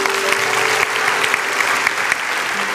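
A church congregation applauds during a sermon, sustained dense clapping from many hands at moderate volume, steady throughout with a faint tone beneath.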